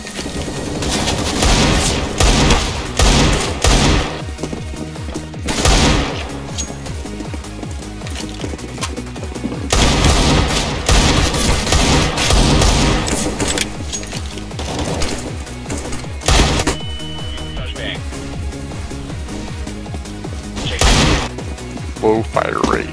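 Sustained gunfire from a video game rattles on through dense, layered bursts and booms, with heavy impacts spaced throughout, while players talk excitedly over the shooting.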